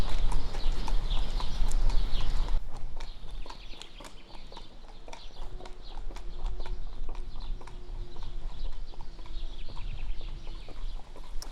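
Horse hooves clip-clop in a steady trot on a warm-up jog, a strong, healthy horse moving close by, with a louder rumbling start and occasional bird calls in the background.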